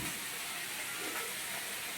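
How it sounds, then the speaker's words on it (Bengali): Potatoes frying in a pan in a home kitchen give off a steady, even sizzle and hiss that stays constant throughout, with no talking. "ধরুন আলু ভাজছে"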